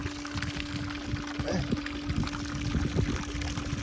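A thin stream of water pumped out by a submersible pump on a boat being sunk, pouring and trickling steadily under a constant motor hum, with faint background talk.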